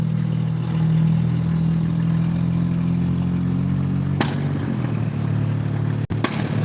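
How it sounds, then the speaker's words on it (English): A truck engine rumbling loudly nearby at a low steady idle, broken by a couple of sharp backfire pops near the end, with no one speaking. "Well, listen to that truck backfire."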